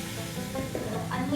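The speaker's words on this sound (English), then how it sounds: "I'm going to add the meat in here" Meat for a dum pukht whole-spice mutton curry sizzles in a hot pan, a steady close frying hiss with faint stirring, partly under a voice.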